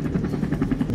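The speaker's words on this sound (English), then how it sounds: "The plane is back." A plane in a Roblox video game drones with a steady, rhythmically pulsing propeller-like hum, fairly loud and continuous throughout, with no talking over it.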